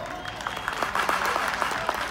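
Audience applause at a dance band tournament in a plaza in Kilgore, a steady wash of clapping from a nearby crowd with scattered louder claps, lasting about two seconds.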